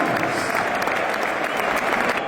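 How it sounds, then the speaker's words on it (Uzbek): A large stadium crowd applauds steadily during a Manchester City versus Arsenal football match as a player is substituted, a dense, even roar of clapping from a distance with no break. "Olqishlar bilan albatta"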